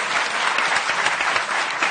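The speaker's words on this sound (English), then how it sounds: "let's give our panel a round of applause" An audience at a mentoring program kickoff claps for a panel in continuous, dense applause that stays loud and even throughout.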